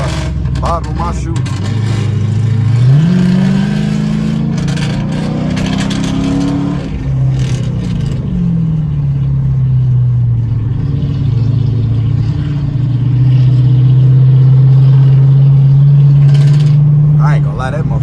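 Straight-piped Dodge Charger R/T with a cammed Chrysler 300C nearby, engine droning loud and steady through highway pulls, its pitch climbing then holding under ongoing talk inside the car.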